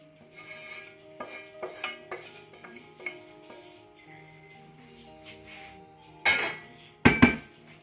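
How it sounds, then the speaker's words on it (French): Utensil gently stirring a shrimp brick filling in a bowl, giving soft scraping and light clinking in a loose rhythm, with two louder knocks against the bowl near the end. "Et je le mélange doucement."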